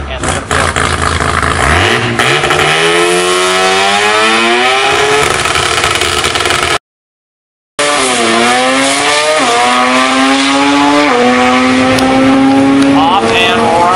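A fast import drag race car at an import face-off drag strip in Topeka, Kansas, launches with a very loud engine roar. It climbs in pitch through rapid gear shifts, breaks off briefly, then screams on, with faint announcer talk beneath.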